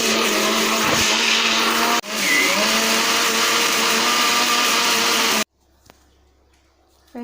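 Electric mixer grinder whirring loudly as it grinds a mix of herbs for hot oil, steady motor roar with a brief dip near two seconds, then stopping abruptly and leaving near silence.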